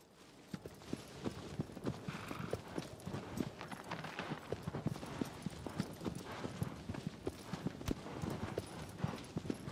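Hooves of a horse galloping in the Shadow of the Colossus video game, a steady rapid clip-clop rhythm running throughout at close range, with faint game ambience beneath.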